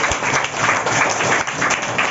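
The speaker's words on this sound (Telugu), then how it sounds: "గట్టిగా చప్పట్లు కొట్టండి." Children clapping together at a Rotary Club dental camp event, a steady, moderately loud burst of applause lasting a couple of seconds with no talk over it.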